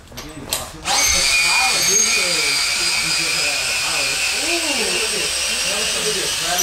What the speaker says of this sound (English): Now we're gonna undo the spring compressor.